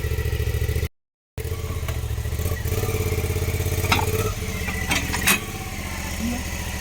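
A motorcycle engine idles and revs nearby as the bike is ridden up a ramp onto a trailer hitched to a camper van, a steady low rumble with a brief dropout and a few sharp knocks, while people talk over it.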